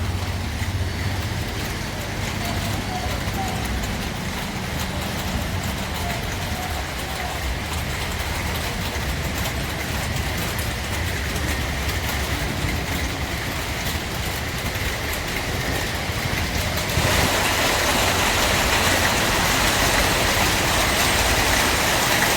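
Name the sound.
monsoon rain falling on asbestos and tin sheet roofs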